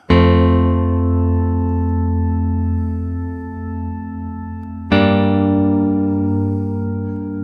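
Two sustained synthetic MIDI guitar chords, each struck all at once as a single block, ringing for several seconds before the next change.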